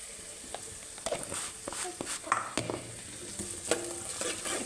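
Turmeric is stirred into onions sautéed in oil for chicken curry. Quiet, uneven scraping and light ticks ride over a faint sizzle and constant background hiss.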